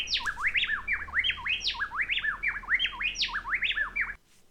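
A male and female bird sing a tightly interlocking duet, their clear whistled notes alternating rapidly and overlapping in a bright repeating pattern for about four seconds before stopping abruptly, close and loud.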